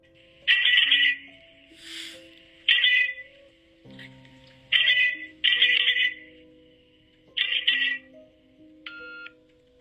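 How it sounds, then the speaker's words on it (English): Over a phone line, a series of electronic beeps in short bursts with gaps between them, clear and fairly loud with no voices, ending in a brief higher tone. "when you call him, he gives you a series of beeps that people think is a secret message"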